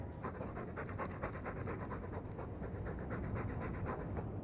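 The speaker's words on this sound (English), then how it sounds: "All that noisy dog breath," A dog in the video game Dragon Age II pants steadily and quickly, a continuous rhythmic breathing that fills the whole stretch at moderate, close level with no talk over it.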